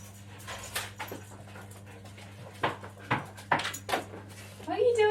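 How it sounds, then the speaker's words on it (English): Dogs pant and whimper indoors during a room makeover, short breathy bursts and soft whines coming and going at close range over a steady low electrical hum, with occasional faint clatter. "My dogs are trying to help, but it's not very helpful."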